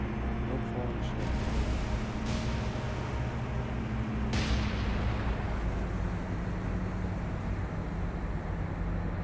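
Heavy naval gunfire and explosions roll through a War on the Sea battle, a continuous dense rumble with sharp blasts near the start and around the middle.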